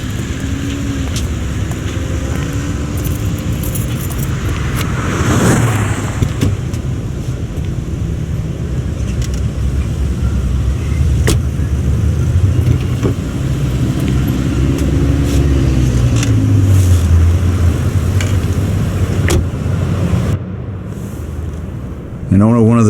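A car engine idles and drives in the Mafia video game, a steady low rumble running throughout with wind-like noise, while voices talk over it.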